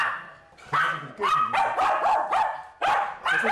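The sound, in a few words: dog barking loudly at visiting film crew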